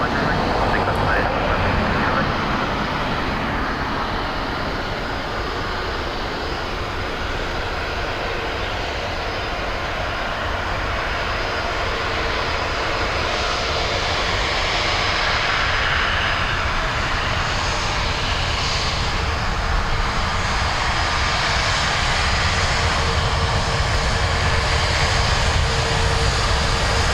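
Ryanair jet departing runway 10 at Dublin Airport, a loud continuous engine roar that holds steady throughout, with talk and radio chatter heard faintly beneath it.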